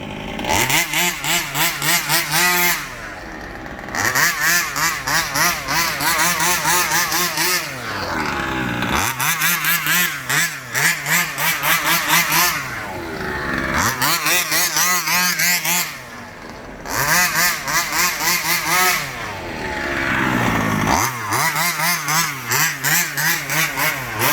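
A large gasoline RC car engine starts and runs with a loud, buzzing two-stroke rasp, revving up and down in repeated bursts with brief dips between.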